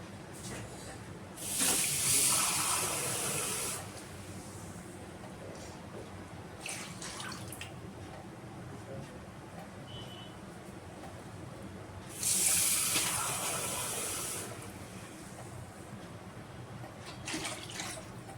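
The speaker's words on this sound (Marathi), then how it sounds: "आता जेवढं पाहिजे ना तेवढं पाणी ओतायचं" Water pours into a pot for a sardine fish curry in two separate splashing streams, each a few seconds long, separated by a long quieter pause with faint background sounds.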